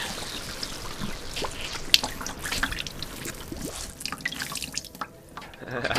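Liquid drips and trickles into a bucket as a sore growth is drained and squeezed, with irregular wet splashes and sloshing close by throughout.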